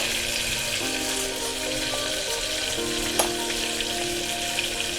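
Tomatoes sauté in a pan for stuffed aubergine and potato curry, a steady close sizzle and crackle running throughout, with a few soft clinks of stirring.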